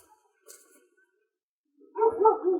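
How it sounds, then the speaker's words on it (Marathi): A few short dog barks burst out close by near the end, after a near-silent stretch with only faint rustles. "कुत्रे भोकायला लागले रे कुत्रे."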